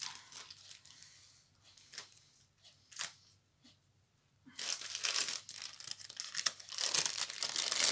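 Small gift package being torn open, paper crinkling and ripping in short bursts that build into sustained loud rustling near the end.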